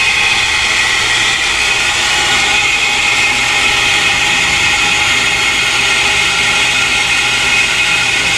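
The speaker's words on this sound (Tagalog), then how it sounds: "Andar na yung makina. Yung ano, dinamo." An engine runs with its dynamo, a loud, constant broadband roar that holds steady with no breaks.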